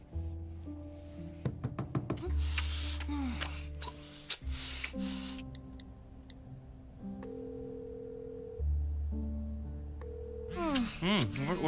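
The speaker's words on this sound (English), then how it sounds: "That's just my phone. Just my phone." A mobile phone rings with a tonal electronic melody of sustained notes that repeats twice and ends in quick chirping sweeps, moderately loud in a quiet room.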